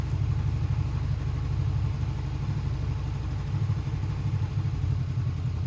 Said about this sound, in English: if we continue to let the clutch out slowly enough, the bike will begin to roll all by itself